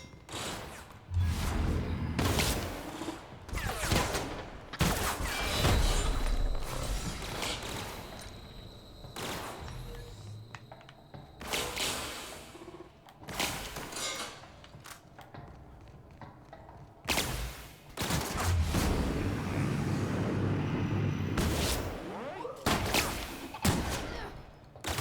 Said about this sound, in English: now she's shooting at me